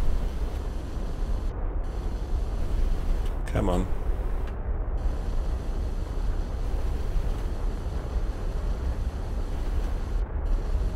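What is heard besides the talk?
rocket engines firing in Kerbal Space Program video game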